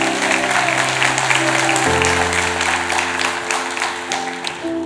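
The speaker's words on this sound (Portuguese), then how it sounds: "aplaudir o nome de Jesus" Audience applause in a church auditorium during a Pentecost vigil sermon, steady dense clapping throughout with a sustained musical tone underneath.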